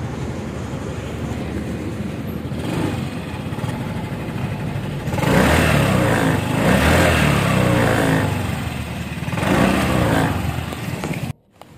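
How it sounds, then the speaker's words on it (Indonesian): A 2020 Yamaha FreeGo scooter engine runs steadily with a smooth, even hum that swells slightly at times, then cuts off abruptly at the end. "Nah inilah suara motor ini tuh halus, kerasa halus banget"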